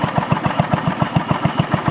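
A lawn mower engine idles close by, loud and steady, its chugging pulses arriving in an even rapid rhythm with no voices.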